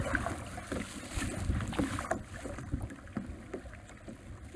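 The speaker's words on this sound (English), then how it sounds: "Wind's starting to pick up again." Gusty wind buffets a windscreen-covered microphone beside a lake at a state park campsite, rumbling in uneven bursts that ease off toward the end, with no speech.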